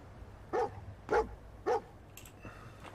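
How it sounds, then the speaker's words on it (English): A dog in the video game Fallout 4 gives three quick, sharp barks at a moderate distance, with a faint clatter afterward. "Who's barking?"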